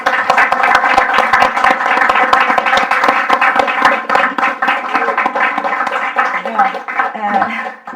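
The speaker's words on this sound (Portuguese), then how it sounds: "quero eu primeiro aplaudir a Cristina" An audience applauds Cristina at a legal conference: loud, continuous clapping close by, sustained throughout, with a faint voice emerging as it dies down.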